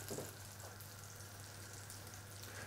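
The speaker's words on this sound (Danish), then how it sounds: "De skal bare ristes, så de lige får en sprød skorpe." Fresh cod roe toasts in a hot pan, giving a soft continuous sizzle and faint crackle, fairly quiet and close, with no voices over it.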